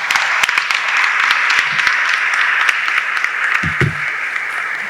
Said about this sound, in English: May I have a big round of applause for her as well.